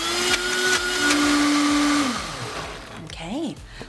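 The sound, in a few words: blender mixing vegan dip ingredients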